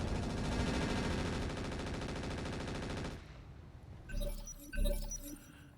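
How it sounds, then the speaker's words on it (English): Sustained rapid machine gun fire from a mech in the game RogueTech, loud and continuous for about three seconds, then cutting off into quieter clinks and two short impact bursts. "And the machine gun sounds go wild"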